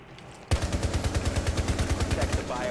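Rapid automatic gunfire from a Saiga shotgun in the video game Rainbow Six Siege, a loud sustained burst of evenly spaced shots that starts abruptly and runs without pause to the end.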